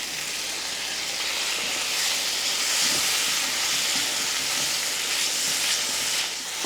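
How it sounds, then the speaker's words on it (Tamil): Steady sizzling hiss of coconut milk simmering in a hot pan, continuous and fairly loud, with faint bubbling pops and no voices. "தேங்காய் பால் ஊற்றி லைட்டாக இந்த மாதிரி கொதிக்க விட்டதுமே"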